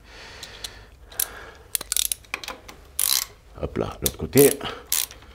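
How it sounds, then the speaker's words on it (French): A ratchet wrench tightens a 17 mm plumbing fitting with quick runs of sharp clicking pawl ratchets, close up and in irregular bursts, while someone speaks briefly in French. "j'ai une petite mallette avec des petites clés à cliquer là. Donc, on va serrer ça avec du 17"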